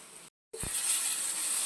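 A fish head fries with split chillies and cumin in a hot pan, giving a steady hissing sizzle that drops out briefly, then returns with a short knock as it is stirred.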